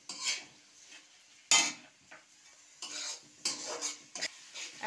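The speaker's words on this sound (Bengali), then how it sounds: "এখন আমি মশলাটা ভালো করে কষিয়ে নেব" Spices with raw cumin paste and cumin powder are stirred and fried in a pan, with a few bursts of scraping and clinking from a spoon and a soft sizzle between the strokes.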